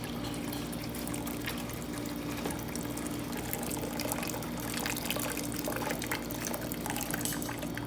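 Hot water pours and splashes out of sterilized glass jars in a kitchen during tomato juice canning, a faint, continuous trickling and dripping without talk.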